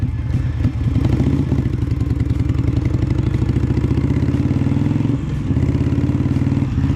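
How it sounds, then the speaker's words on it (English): A Harley-Davidson Iron 883 motorcycle rides around the block, its engine a loud, close, steady throbbing rumble with rapid regular pulses and a brief dip near the end. "I figured I'd just take you guys with me on a little ride, just around the block or so to give everything a test."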